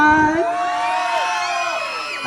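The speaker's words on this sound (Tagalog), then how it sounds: "hayaan niyo po akong maghingi sa inyo ng pasigabong palakpakan" A pageant audience at a festival costume show erupts in loud, high-pitched whoops, yells and cheering, many voices shouting at once in a sustained, near and intense swell.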